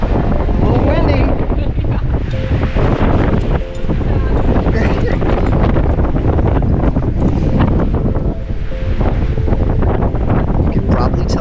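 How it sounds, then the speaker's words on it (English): Strong wind buffets the microphone on an exposed multi-pitch rock climb in Sedona, a loud, continuous roaring rumble with gusty swells throughout, with brief voices partly buried beneath it. "A little windy."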